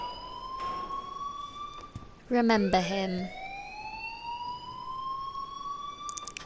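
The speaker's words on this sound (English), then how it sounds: "please turn off that alarm since that's your job" A continuous electronic alarm tone rings through a scene in the Life is Strange video game, a steady high pitched wail that persists throughout, briefly interrupted by a louder burst with a short spoken line over it.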